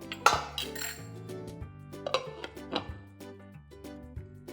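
A metal cooking pot for eggs is covered with its lid, producing a series of close, bright clanks and ringing clinks of metal on metal, irregular and fairly quiet, with no talk.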